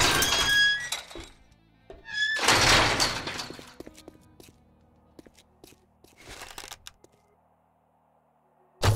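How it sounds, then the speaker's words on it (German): A loot chest is opened in the zombie survival game 7 Days to Die, with loud game sound effects: thumping, scraping bursts, a quieter stretch of clicks, then another short burst and a thud. "So, wir öffnen mal die Kiste."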